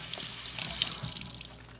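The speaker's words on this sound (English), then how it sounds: "I'm gonna run some water over it so you can see it better" Running tap water splashes over frozen turnip greens in a kitchen sink, a steady hissing stream heard up close for a couple of seconds with no voice over it.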